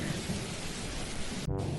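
Steady, dense hiss of heavy rain with a deep rumble of thunder underneath, a rain-and-thunder sound effect used in a short comedy sketch. It runs continuously and loud, briefly cutting out near the end before resuming.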